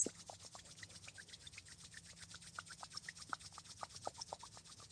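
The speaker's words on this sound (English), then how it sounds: "Rub your palms." Palms rub briskly together close up, a soft, quiet rasping swish repeated in a quick, steady back-and-forth rhythm with no voices.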